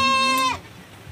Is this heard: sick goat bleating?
yes